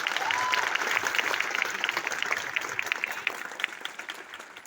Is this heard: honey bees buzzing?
no